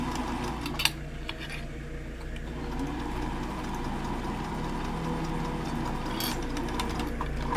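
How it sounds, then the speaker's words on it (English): A sewing machine stitching a quarter-inch seam on a fabric mask, a steady close mechanical whirring hum with a brief click early on. "So I'm doing a quarter of an inch seam."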